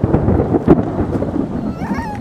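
Thunder rumbles during an outdoor storm, a loud low roll with a sharp swell near the middle, heard alone without talking over it.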